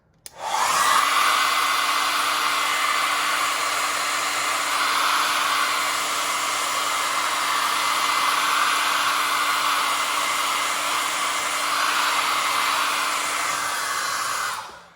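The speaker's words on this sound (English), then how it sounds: "I'm going to use my hair dryer to speed up the drying of that green and pink" A hair dryer switches on and blows with a steady loud whirring hiss, running continuously before cutting off at the end.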